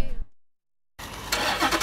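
A car engine cranks and fires after a brief silence, then revs up loudly and closely, building to a strong roar by the end.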